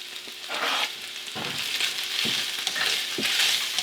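Chopped fresh garlic frying in a pan, a bright continuous sizzle close by, broken by several stirring scrapes and light knocks of the utensil, with no one talking.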